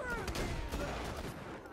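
Revolver gunfire in the Borderlands 2 video game: a burst of loud, booming game shots packed into under two seconds, with the blasts fading into a lingering rumble.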